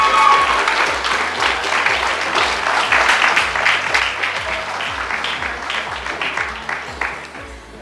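Sustained audience applause at a primary school graduation ceremony, loud and steady throughout, fading slightly toward the end, with a low rhythmic background thump underneath.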